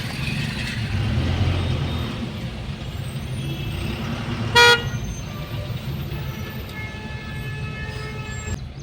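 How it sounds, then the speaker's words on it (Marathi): Dense road traffic on the Mumbai Goa highway rumbles steadily throughout, and one loud, short vehicle horn blast sounds close by about halfway through. "इकडेच आपल्याला ट्रॅफिक मिळालेलं आहे"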